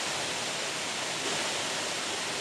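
Kendai waterfall near Korba pours water in a steady, dense rush that fills the whole clip with an even hiss, close and unbroken, with no voices.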